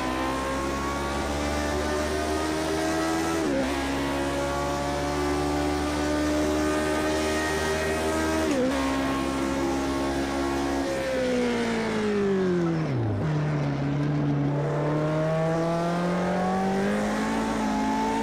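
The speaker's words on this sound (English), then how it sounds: "Hear the roar of that engine." A race car engine roars continuously in Project Cars 2, pitch climbing through the gears with sharp drops at each shift, loud and close, with no talking.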